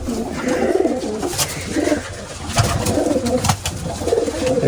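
Caged pigeons coo steadily in low, throaty rolling calls, several birds overlapping close by, with occasional wing flutters and small rustles throughout.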